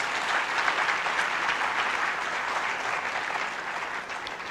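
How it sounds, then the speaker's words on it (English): Audience of students at a university event giving a round of applause for a speaker, dense continuous clapping at moderate level, tapering off slightly near the end. "doesn't he deserve a round of applause?"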